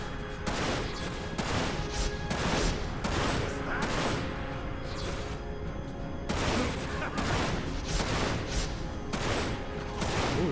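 Gunfire in the shooter Dirge of Cerberus: Final Fantasy VII comes in loud, repeated bursts of sharp shots, some rapid and some spaced, spread across the whole stretch with a faint musical hum behind.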